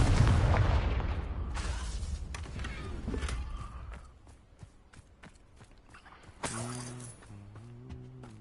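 The Confringo fire spell from Hogwarts Legacy goes off with a loud, booming burst at the start. A scatter of sharp, crackling hits follows and fades into quieter impacts, with a low rumbling tone near the end.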